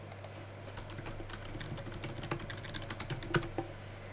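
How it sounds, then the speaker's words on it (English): Someone types a password on a computer keyboard, producing quiet, close key clicks in an uneven quick rhythm over a steady low electrical hum, with no talk. "Type in a password."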